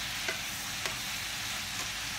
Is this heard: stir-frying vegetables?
yes